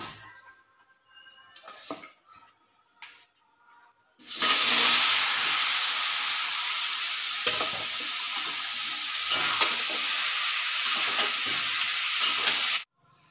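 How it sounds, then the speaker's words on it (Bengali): Boiled raw jackfruit pieces fry lightly in turmeric-dusted oil in a hot kadai, a loud, close, steady sizzle that starts abruptly after a few quiet kitchen knocks and runs unbroken for about eight seconds before cutting off. "এখন হালকা করে ইঁচড়টা ভেজে নেব"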